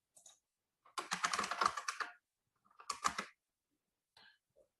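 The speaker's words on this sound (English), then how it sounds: "I'm going to type in its name." Bursts of fast typing on a computer keyboard come through close and clear, with a long run of keystrokes, a pause, then a shorter flurry and a few stray taps.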